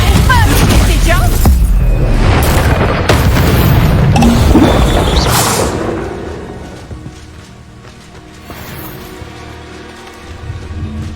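A Confringo fire spell explodes in Hogwarts Legacy with a loud, booming blast up close that rolls on for several seconds before fading into a quieter rumbling tail.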